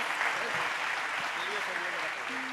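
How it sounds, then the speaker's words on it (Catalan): A crowd at a festival event claps steadily for a couple of seconds, dense and even, with voices faintly mixed in underneath. "Un aplaudiment."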